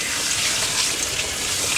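Water runs steadily from a tap to wash out a fish tank canister filter, a constant close hissing gush with no pauses.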